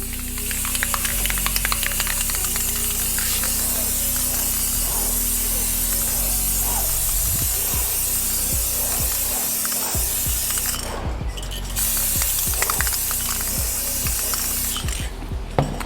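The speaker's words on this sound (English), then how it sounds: "spray paint." Spray paint hisses continuously from an aerosol can onto a glass vase, broken by rattling clicks and a couple of short pauses, loud and close throughout.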